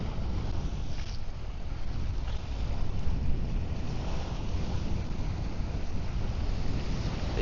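Steady wind buffets the microphone at a seaside park in Phuket, a continuous broadband rumble and rush with waves washing in beneath it, loud and unbroken throughout.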